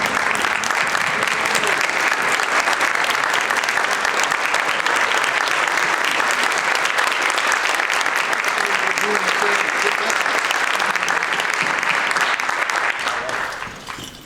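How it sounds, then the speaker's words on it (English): Loud, dense applause from a community gathering honoring fund recipient organizations, sustained clapping filling the room without pause before tapering off at the very end. "so we can give everybody a round of applause"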